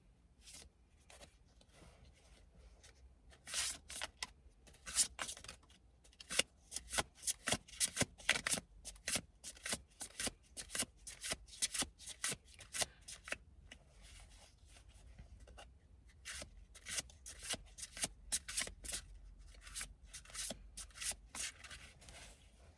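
Playing cards are shuffled and drawn in repeated close riffling bursts, rapid papery flutters and snaps that come in uneven clusters over a quiet background.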